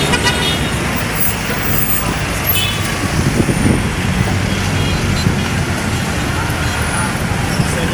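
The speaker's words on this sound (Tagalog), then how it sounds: "Grabe, traffic." Busy street traffic in Divisoria, Manila, a steady dense roar of cars, buses and trucks with scattered horn toots, close and continuous, with voices mixed into the din.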